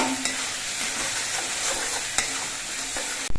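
Spice paste with turmeric powder stir-fried in a pan for a boal fish curry, a steady close sizzle with scraping stirs and a sharp clatter near the end, no talk.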